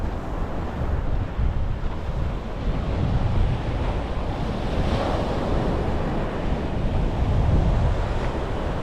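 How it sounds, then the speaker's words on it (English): Strong wind gusting by the sea on a bright early morning, roaring steadily into the microphone over a constant wash of surf, with no voices. "I just wish that wind would drop a little bit"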